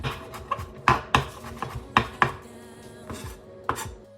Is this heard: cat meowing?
no